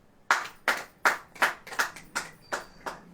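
A church congregation claps hands in a slow, even rhythm of about eight distinct claps, close and clear with no talking.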